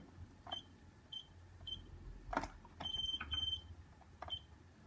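Several short, high electronic beeps from an alarm keypad, spaced irregularly with a brief double tone, over quiet background hiss and a few button clicks.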